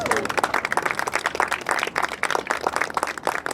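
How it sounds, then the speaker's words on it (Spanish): A church congregation applauds during an evening worship service, a steady dense clapping sustained throughout at moderate volume, with a voice briefly audible at the start. "¿Por qué no le dan un aplauso al Señor?"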